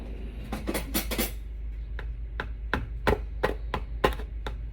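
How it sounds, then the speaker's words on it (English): A knife cuts open a new cardboard detergent box, making a quick cluster of sharp scraping taps followed by sparser, evenly spaced clicks and thuds, faint and close with no talking. "Let me open this new box."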